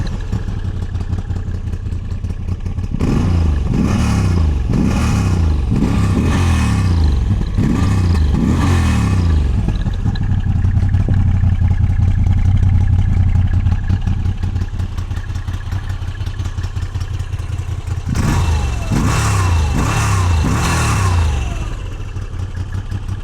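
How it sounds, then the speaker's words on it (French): A 2024 Moto Guzzi V85 Strada's engine idles steadily at close range, then revs in several sharp bursts early on and again near the end, sounding deep and muffled with a metallic edge. "je vais te faire écouter le son du moteur"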